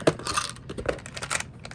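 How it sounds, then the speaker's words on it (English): Dice clatter and click against one another as they are scooped from a dice box during a tabletop game, a short, close rattle with a sharp first clink. "let's see, get into my dice box here."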